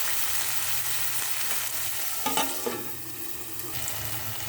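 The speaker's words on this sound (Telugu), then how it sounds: "ఒకసారి కలుపుకొని టమాటాలు వేసుకోవాలి. టమాటాలు కూడా మగ్గించుకోవాలి." Chopped tomatoes sizzle in an oil-filled pan for a bitter gourd fry, a constant frying hiss broken by a few scraping spatula strokes as they are stirred.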